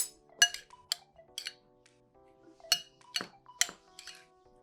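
A utensil clinks and taps against a bowl while lemon juice, salt and pepper are mixed in, giving a series of sharp, close, bright ringing knocks in uneven bursts with quiet gaps between.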